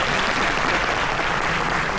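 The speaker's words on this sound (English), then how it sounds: "Let's give them our warmest round of applause." Graduates and guests at a law school graduation ceremony give a warm round of applause, a steady dense wash of clapping throughout.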